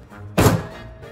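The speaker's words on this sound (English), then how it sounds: "Then you smack the clay." A single heavy thunk as wet clay is smacked down onto a potter's wheel head to make it stick, one close, dull thud standing alone in a quiet room.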